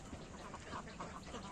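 Ducks on a farm holding about 740 birds quack faintly and softly, a few scattered calls blurred into a steady wash of background noise.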